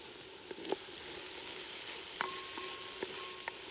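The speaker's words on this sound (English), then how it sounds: "Now we add the garlic. We're going to fry that up." Garlic sizzles faintly in a cast-iron potjie pot over a wood fire. The soft, steady frying carries occasional small clicks and taps from the pot.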